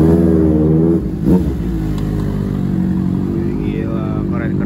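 Big motorcycles at a rally gathering near an apartment rumble and rev loudly up close, with a throaty idling drone and a sharp throttle blip partway through, while people talk nearby.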